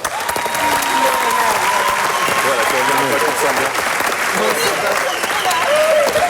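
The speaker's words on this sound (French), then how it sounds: "On peut les applaudir très fort." Loud applause from a television studio audience, sustained clapping throughout with someone talking over it and a few cheers rising in the mix.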